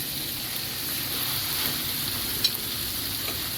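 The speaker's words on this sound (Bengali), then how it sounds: "এখন আমি শাকটা দিয়ে দিই" Greens drop into a pan of sautéed potato, shrimp and tomato, where a constant, close sizzle hisses like rain with one small clink near the middle and no speech.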